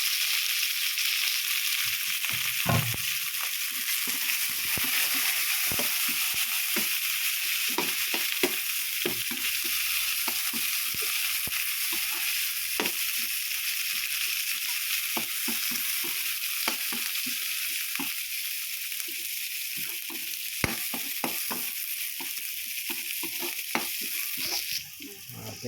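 Pancit canton stir-fries with garlic and celery in a hot pan, giving a steady, close sizzle throughout with frequent scraping and clacking stirring strokes.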